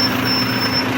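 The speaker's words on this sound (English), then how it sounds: "Let's let that truck blow by real quick." A truck passing by on a road, a steady loud engine rumble and broadband roar filling the whole second, close to the listener with no voices.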